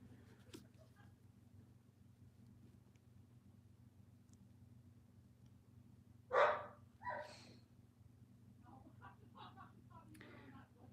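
A household dog barks at night, two or three sharp barks from a short distance over a low steady hum, followed by softer yips and scattered vocal sounds.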